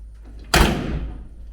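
A tractor cab door on a DT-75 crawler slams shut once, a sharp, close thud that rings out and fades over about a second.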